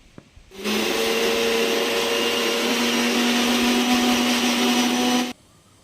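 A mixer grinder roars loud and steady for about five seconds as it briefly grinds jackfruit with cumin and garlic, starting and stopping abruptly.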